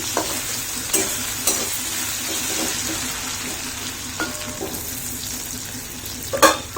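Potato pieces frying in a pan with salt over a low flame, a steady sizzle under repeated knocks and scrapes of stirring, ending with a louder clatter.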